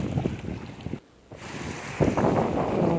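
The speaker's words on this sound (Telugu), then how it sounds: "వాటర్ చూడండి, ఫ్లో" River water flows near a bathing spot at sunset, a steady rushing wash mixed with wind buffeting the microphone and a short drop-out partway through.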